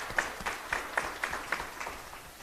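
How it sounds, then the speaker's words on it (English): Light, sparse applause from a summit audience greeting a judge, a handful of separate claps at a fairly even pace, quiet and somewhat distant. "Please give a rounding applause to Judge Lionel."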